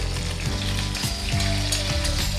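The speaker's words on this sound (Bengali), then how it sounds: "দিয়ে একটু লাল লাল করে ভেজে নেব।" Crushed garlic cloves and slit green chillies fry in hot oil for a matar shak dish, a loud, close sizzle with rhythmic scraping and clicking of stirring, no talk.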